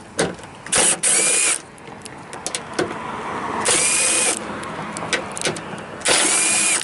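A ratchet loosens bolts under the back door latch of a 2007 Toyota Sienna: three bursts of loud, fast clicking ratcheting, separated by quieter handling and metallic knocks, close up.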